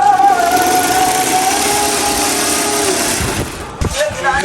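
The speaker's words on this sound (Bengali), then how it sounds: "এই মেশিনটি চতুর্দিকে রাউন্ড কাটবে আর সেলাই করে।" A mattress factory machine cuts and sews Chinese fabric around a mattress edge, giving a steady whirring mechanical drone with a high tone, then a few clunks near the end.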